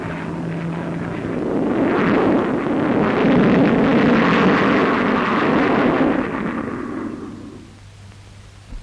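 A supersonic jet roars past at the Farnborough airshow, swelling into a loud, broad rumble over several seconds, then fading away into the distance; no speech.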